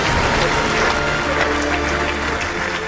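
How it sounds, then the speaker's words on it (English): A large evening audience at an Asian Apprenticeship Awards ceremony bursts into dense, loud applause that holds steady throughout, with cheering voices mixed into the sustained clapping. "So please give a huge round of applause to the beautiful and the very talented Jasmine Kundra"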